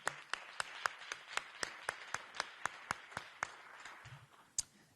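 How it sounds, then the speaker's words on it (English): Sparse clapping at a press conference on homelessness count results in Los Angeles: about twenty distinct, sharp claps in a steady rhythm, fairly close and moderately loud, from only a few people rather than a full crowd. "We should be clapping on that."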